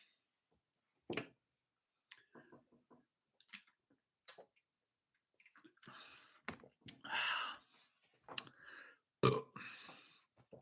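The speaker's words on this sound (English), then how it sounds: "I'm really making me burp a lot." A man burps repeatedly after drinking a cherry lime rickey, with several separate loud belches spaced across a quiet room, the later ones longer and rougher, and small clicks and mouth sounds between them.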